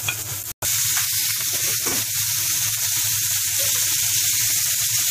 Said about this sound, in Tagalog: Ayun na, ayun na, ginigisa na.